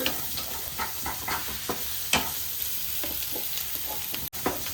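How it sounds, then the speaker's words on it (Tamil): Food in a pan is sautéed and stirred until brown, making a steady close sizzle broken by repeated scraping strokes of the spoon, with no voices. "இது ஒரு ப்ரௌனிஷ் கலர் வர வரைக்கும் நம்ம நல்லா வதக்கிக்கணும்."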